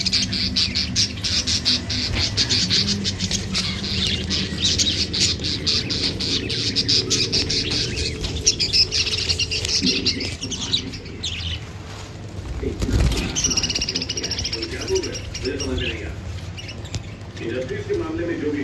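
Budgerigars and cockatiels chirp, tweet and squawk continuously in a busy bird shop, with wings fluttering and people talking underneath the steady chatter.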